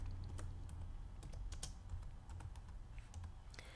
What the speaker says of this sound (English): Type in a date.